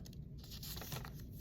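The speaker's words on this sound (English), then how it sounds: "if I take out the little slips of paper for this one" Little paper slips are pulled out and handled during a science sorting activity on ionic and covalent bonds, giving steady close crinkling and tearing-like rustles for about a second and a half.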